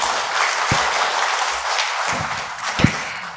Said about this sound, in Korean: 여러분 다시 한번 큰 박수를 부탁드리겠습니다